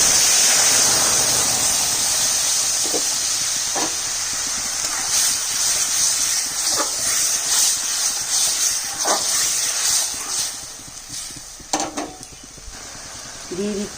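Blended tomato paste hitting hot oil seasoned with a dried chilli, five-spice tempering and ginger, a loud steady sizzle and hiss that slowly eases, with faint stirring scrapes.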